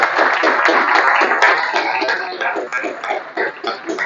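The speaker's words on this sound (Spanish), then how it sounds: "Den un fuerte aplauso a Jesús" A church congregation applauds during a Spanish-language service, loud close clapping with uneven rhythmic bursts and a few voices mixed in, tapering into sparser claps.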